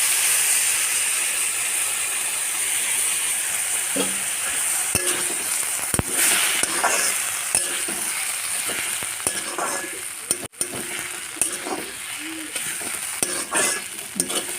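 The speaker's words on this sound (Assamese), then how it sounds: "নাৰিকলৰ ৰস অৰ্থাৎ গাখীৰখিনি দি এনেকৈ কিছু সময় ভাজি থাকিব।" Fish curry fries in a pan after coconut milk is poured in, giving a steady sizzle and bubbling throughout. A spoon stirs and scrapes against the pan at intervals, with no talking.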